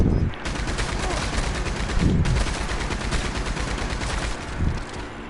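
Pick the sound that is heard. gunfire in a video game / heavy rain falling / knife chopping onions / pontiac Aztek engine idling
gunfire in a video game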